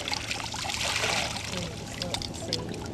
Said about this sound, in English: I'm gonna rinse whatever's left in the net back into the sieve